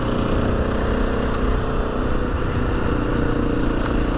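A Husqvarna FE 350 motorcycle engine runs steadily at close range, a loud continuous drone with no clear revving or pauses and no talking.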